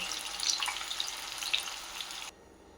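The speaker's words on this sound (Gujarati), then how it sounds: "આ રીતે આપણે બધા તળી લઈએ." Vegetable manchurian balls deep-frying over a full flame, a steady dense crackling sizzle of hot oil that runs on without voices, then cuts off abruptly near the end.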